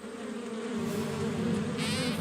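Cartoon bees buzz in a steady, dense drone that swells slightly as it goes on, with a brighter whine joining near the end and no voices over it.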